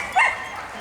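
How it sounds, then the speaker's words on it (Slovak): A female dog at an animal rescue gives one short, sharp bark near the start, close and clear, followed by quiet room tone. "Ale je prekrásny pes"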